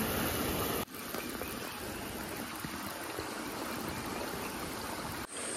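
A river flows beside a campsite tent at night, making a soft, steady rushing of water that runs unbroken and fairly faint in the background, with no voices.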